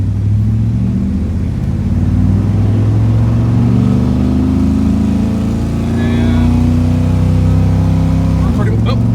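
A 1996 Dodge Ram 1500 pickup driven at full throttle down a driveway. The engine drones loud and close with a steadily climbing pitch, then drops sharply near the end as the automatic transmission shifts.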